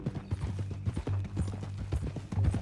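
Hooves of a horse clip-clop steadily at a walk in a western-themed video game, a close, even rhythm of soft thuds with faint creaking tack and no talk.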